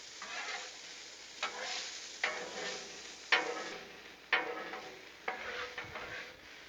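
Onions and peppers fry in bacon fat on a Blackstone griddle, with a soft, quiet sizzle broken by a series of spaced spatula scrapes and taps, roughly one a second.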